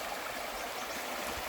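Two rivers meeting at a junction in Monga National Park, New South Wales, giving a steady, even rush of flowing water, moderately close and continuous, with no voices over it.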